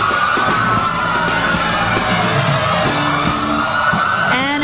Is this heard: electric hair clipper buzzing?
no